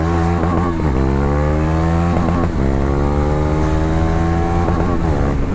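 A KTM Duke 390 motorcycle engine at full throttle on a city street, loud and close, climbing through the revs in repeated sweeps with brief dips at each gear change.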